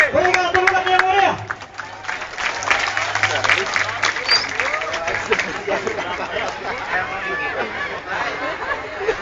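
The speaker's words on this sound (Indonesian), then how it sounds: "Berikan tepuk yang mulia." Applause from an audience at a religious gathering in Tainan, a burst of clapping mixed with crowd chatter and voices that fades into murmuring hubbub.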